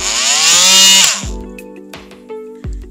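A RED cordless oscillating multitool starts with a fitted attachment, a loud, close, high-pitched whine for about a second, then winds down into a few short bursts and pauses.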